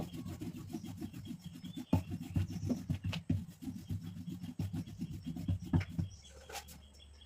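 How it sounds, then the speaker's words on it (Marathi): A rolling pin rolls out dough for chay khari into a flat sheet, giving a steady run of soft rubbing, rasping strokes close up, with a few sharper knocks and no talking. "छानशी आपल्याला पोळी करून लाटून घ्यायची."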